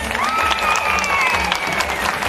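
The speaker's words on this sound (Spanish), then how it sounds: "Aplausos para el equipo número tres." Crowd clapping and cheering for the third team at an inter-school regional dance awards ceremony in Tlapacoyan, dense and continuous, with a whistle-like tone gliding over the noise.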